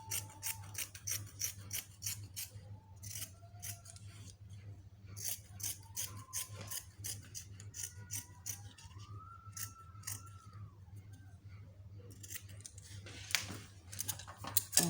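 Scissors snip through fabric pieces for a palazzo jumpsuit in a rapid, steady series of close, crisp cuts running throughout, over a low constant hum with faint sliding rustles.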